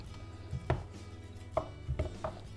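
A knife slices potatoes into halves and then slices on a cutting board, with a handful of irregular close thunks against the board over quiet background.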